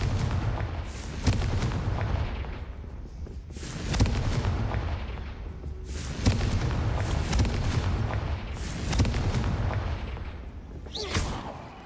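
Confringo fire spells in Hogwarts Legacy set off heavy booming blasts about every two seconds, five in a row. Each explosion is loud and close, with a rumbling tail that fades into the next.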